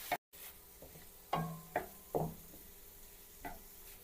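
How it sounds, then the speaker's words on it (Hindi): Chicken frying in a pan for a chicken tikka macaroni dish, heard as a faint sizzle broken by a few sharp scrapes and clatters of stirring, with quiet gaps between. "चिकन को हम इसमें अच्छी तरह फ्राई कर लेंगे।"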